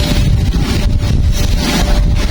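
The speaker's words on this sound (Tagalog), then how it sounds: "Ayaw na huminto ng hangin." Strong, constant wind roars and buffets the microphone, a dense blustery rush with no pauses and no voices.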